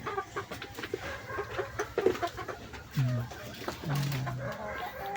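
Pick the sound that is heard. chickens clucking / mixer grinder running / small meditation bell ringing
chickens clucking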